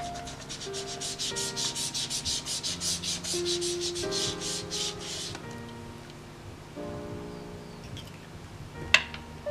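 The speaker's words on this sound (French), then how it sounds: "j'arrive un peu à moins bien l'étaler avec les doigts en mousse" Distress Oxide ink being spread with foam finger applicators, a steady rhythmic rubbing that repeats in quick strokes, then slows into softer scuffs with a sharp tap near the end, close and fairly quiet.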